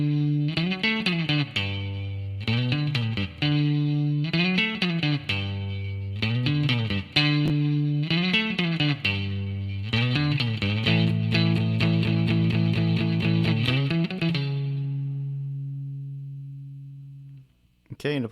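Overdriven electric guitar plays the verse part of a song, repeated chugging phrases with slides and a sustained final chord ringing out, loud and alone with light effects.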